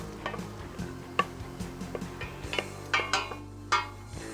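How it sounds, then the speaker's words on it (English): Food sizzles and crackles in hot oil in a home kitchen, with irregular sharp pops and ticks over a low steady hiss, fairly quiet and close. "All right, sizzling, so it's good."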